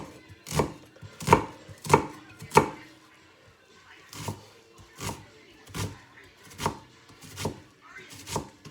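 Half an onion chopped with a knife on a board for pea and ham soup, about a dozen sharp, close thuds, first in a quick cluster of four, then evenly spaced strokes after a pause.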